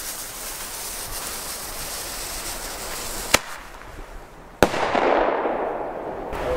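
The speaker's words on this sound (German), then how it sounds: "jetzt machen wir ein paar Bombenrohre" Firework bomb tubes detonating outdoors: two sharp, loud bangs a little over a second apart over a continuous noisy rush, the second followed by a crackling, hissing tail.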